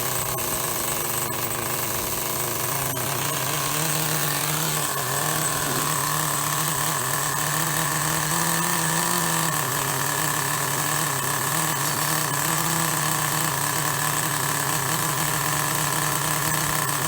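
A Vertex VX18 nitro engine in a 2008 Heng Long Sprint RC boat runs during break-in, a loud, steady high-revving buzz that holds without pause, close to the listener.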